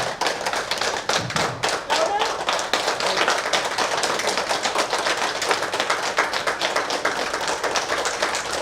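A group in a room claps hands in a dense, uneven patter that runs throughout at close range, with voices heard faintly underneath.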